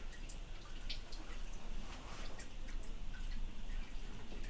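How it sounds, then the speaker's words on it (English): Fuel drains from the tank of a classic Mini Moke, making a constant faint patter of drips over a low background hiss. "The fuel's still draining, so we're taking the tank off, going to clean that out."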